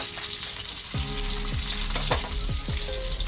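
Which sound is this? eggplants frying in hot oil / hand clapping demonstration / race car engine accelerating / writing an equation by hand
eggplants frying in hot oil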